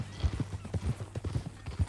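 Horse hooves clip-clop at a steady walking pace in Red Dead Redemption 2, a close, rhythmic string of hollow thuds with faint ambient sound behind.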